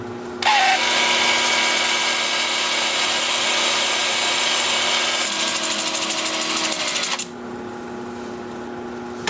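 A sanding disc is held against a spinning black cherry live-edge piece on a wood lathe, giving a loud, continuous abrasive whir with motor hum for several seconds before it cuts out to a quieter drone.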